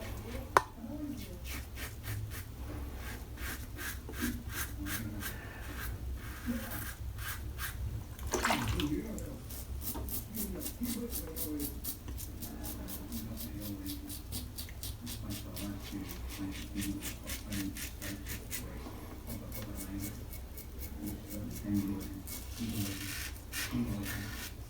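A razor drawn across the grain through lather on skin, heard as fast repeated close scraping strokes in steady runs, with a brief louder rinse or rub partway through.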